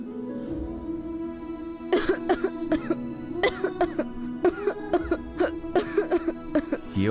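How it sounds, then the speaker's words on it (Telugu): In a Telugu TV serial scene, a person coughs in a series of short, close bursts over a steady background music bed, with no speech. "ఏమొచ్చింది, అలా దగ్గుతున్నావు?"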